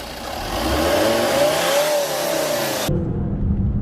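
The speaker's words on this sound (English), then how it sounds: "The engine also revs freely all the way to its 5000 rpm red line" A Volvo S60 Cross Country engine revs up with a rising whine toward its 5000 rpm redline, holds a strong sporty roar, then drops back to a rumbling idle.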